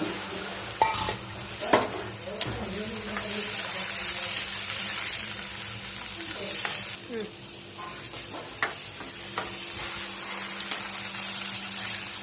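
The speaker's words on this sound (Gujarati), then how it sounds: "રાય જીરું મેથી અને ગલકાનો વઘાર" Mustard seeds, cumin and fenugreek sizzle in hot oil as ridge gourd goes in, a steady loud fry with scattered spoon scrapes and stirring clatter running throughout.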